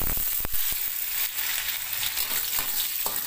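Bitter mustard greens stir-fried with anchovies, garlic and chili in hot oil, giving a loud, close, continuous sizzle punctuated by several sharp scraping clicks of a spatula stirring the pan.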